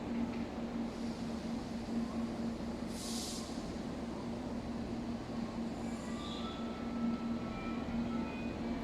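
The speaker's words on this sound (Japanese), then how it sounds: "1番線特急電車到着です。" An express train arriving at platform 1 of Ota Station, a steady low rumble of rolling cars with faint high squeals, and a brief hiss midway over the continuous hum.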